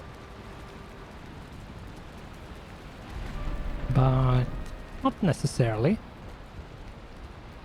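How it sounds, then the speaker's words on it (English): Steady, soft rain hiss fills the background in Valheim, a constant wash of noise that continues evenly while someone speaks briefly over it. "Hopefully the rain and thunder is gone as well."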